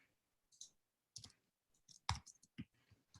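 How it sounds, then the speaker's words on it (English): Keyboard typing comes through as scattered quick clicks and taps in short irregular bursts, faint and close, with silence between strokes. "You should really mute yourself when you type. It's really loud."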